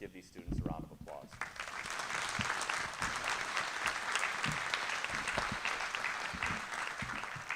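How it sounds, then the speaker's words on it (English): Applause for eighth-grade students at a middle school promotion ceremony, a sustained round of clapping from a large crowd that swells quickly and holds steady, with a brief voice at the start before the ovation takes over. "Let's give these students a round of applause"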